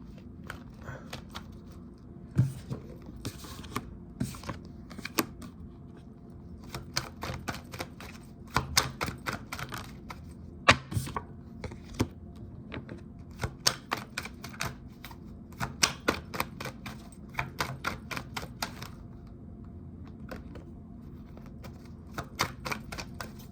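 Tarot cards shuffled by hand in repeated quick riffling bursts of sharp, close papery clicks, starting and stopping in uneven runs.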